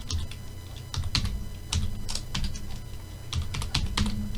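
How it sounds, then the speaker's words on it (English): Computer keyboard typing in quick irregular bursts of clicks, close and fairly loud, with short pauses between runs of keystrokes and no talking. "I'm going to type this monster into this answer box."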